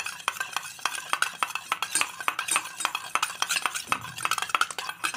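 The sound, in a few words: stirring a hair-care mixture with a spoon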